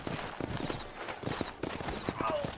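Horses in the Western video game Red Dead Redemption trot with a steady, continuous clip-clop of hooves over an ambient outdoor backdrop, heard alone without talk.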